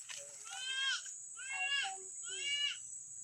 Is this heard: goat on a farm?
yes